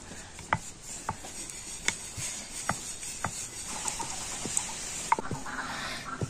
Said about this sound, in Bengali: আর নিয়ে এবার আমি বেলে নেব।